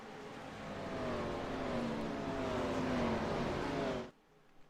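Race cars circling Auto Club Speedway behind an iRacing pace car in a video game, a steady loud engine drone with rising and falling tones that cuts off abruptly near the end.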